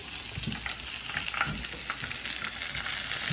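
Tautog (blackfish) fillets fry in hot oil, giving a steady close hiss and sizzle with scattered small pops and crackles, no talk over it.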